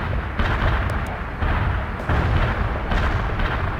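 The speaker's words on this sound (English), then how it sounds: "Artillery barrage inbound." Heavy artillery barrage in a military video game, a continuous loud rumble of overlapping booms and blasts with no pauses.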